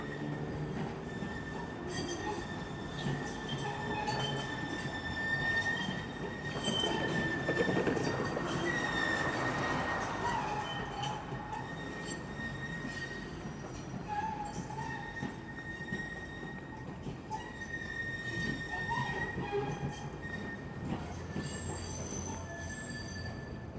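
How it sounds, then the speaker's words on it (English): A San Diego blue line light rail train rolls by at a distance with steady rumbling and prolonged high-pitched wheel squeal, swelling then fading as it passes. "Here's another blue line light rail."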